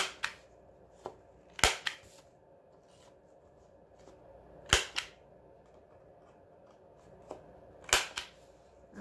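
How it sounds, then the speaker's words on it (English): A corner rounder punch clunks sharply through the paper cover of a handmade ephemera folder for a junk journal, three loud crisp punches spaced a few seconds apart with faint rustling and handling in between. "I'm going to round all the corners of this piece"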